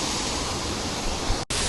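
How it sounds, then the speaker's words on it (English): Continuous broadband roar of a waterfall at a swimming spot in Moalboal, loud and close, with a brief dropout near the end. "Pretty cool waterfall, to be honest."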